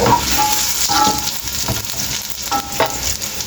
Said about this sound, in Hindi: ये जीरा हमने थोड़ा इसको फ्राई कर लेना